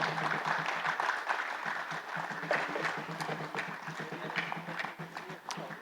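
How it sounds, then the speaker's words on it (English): An audience at an economic dialogue conference session gives a round of applause, heard as fairly faint, scattered clapping with a loose, uneven patter that thins out toward the end. "Big round of applause."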